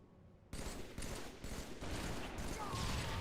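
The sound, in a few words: sniper rifle shots in a video game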